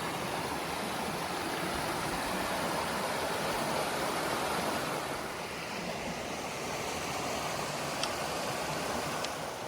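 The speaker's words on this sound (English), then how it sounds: "I'll show you the waterfall that you can probably hear." Constant rushing water from a waterfall and brook on a Mt. Chocorua hiking trail, a dense unbroken roar that fills the whole stretch with no voices.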